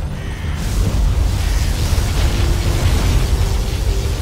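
A particle cannon beam fires in Command & Conquer Generals Zero Hour, starting with a brief burst and then holding as a loud, sustained rumbling roar for several seconds with no talking.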